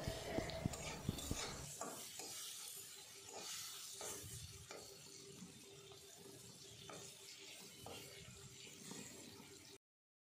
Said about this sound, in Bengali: আমগুলোকে নাড়তে থাকবো।